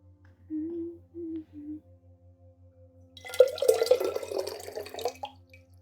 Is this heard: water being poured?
yes